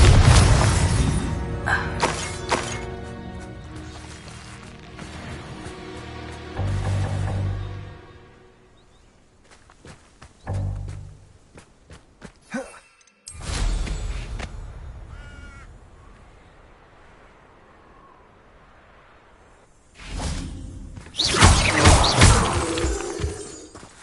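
Spellcasting in Hogwarts Legacy fills the air with loud booms and shattering crashes, including a Bombarda explosion, a few separate bursts with quieter gaps between them and a final heavy blast near the end.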